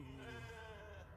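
A sheep bleating in The Alters video game: a single quiet, steady, wavering bleat held for about a second with no talking.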